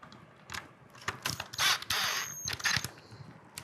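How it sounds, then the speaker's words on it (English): A power driver runs Phillips head screws into a lock housing in short close bursts, whirring and clicking with brief pauses between each screw. "I'm gonna change the bit out on my driver and run these screws in real fast."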